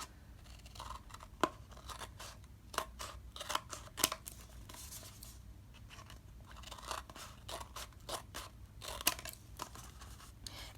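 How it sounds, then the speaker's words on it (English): Scissors snipping paper diagonally while making baby shower decorations, a quiet close series of irregular crisp cuts and rustles, some snips sharper than others, with no talking. "And then I cut it diagonally like this, and I will cut this white piece off."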